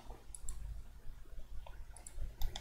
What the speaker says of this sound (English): just selecting and then middle mouse clicking and making sure it's notched to all the members